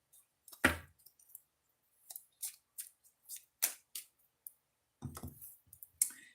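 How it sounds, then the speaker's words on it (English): Tarot cards being shuffled by hand, a series of quick crisp riffling clicks and slaps in short bursts, close and otherwise quiet. "Got to shuffle a little bit."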